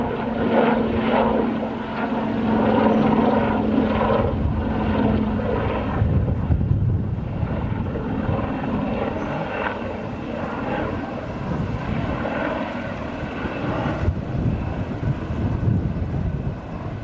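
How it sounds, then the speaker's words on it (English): Continuous droning engine noise of a military helicopter passing overhead, steady and fairly loud, with wind buffeting the microphone. "Oh, I think it's a military helicopter."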